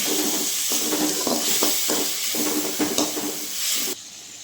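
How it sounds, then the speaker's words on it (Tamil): Curry ingredients with salt sauté in a pan for a drumstick curry, a loud close sizzle broken by rhythmic spatula stirring strokes, then cutting to a quieter hiss at the end; no voices. "இப்போ எல்லாத்தையும் நல்லா வதக்கிக்கலாங்க"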